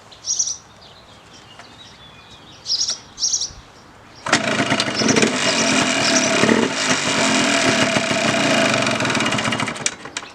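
A 1989 Yamaha Blaster 200 ATV with the muffler baffle removed starts up after a few bird chirps, then runs loud and raspy at a close, steady idle with small revs.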